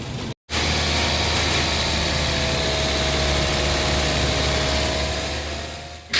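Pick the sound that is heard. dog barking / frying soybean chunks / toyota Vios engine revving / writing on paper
toyota Vios engine revving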